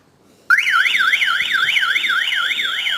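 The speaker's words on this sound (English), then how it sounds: "So it shows you that triggering the alarm system off." A Pandora Mini BT car alarm set off by its interior sensor bursts on suddenly, a loud, close, rapidly warbling electronic siren that sweeps up and down repeatedly without pause.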